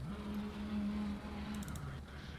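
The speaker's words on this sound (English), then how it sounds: "I can hear engine noise." Race car engine in a sim racing game at the Zolder circuit: a steady droning engine hum with a slight pitch shift, fairly faint over background noise, with a few brief clicks near the end.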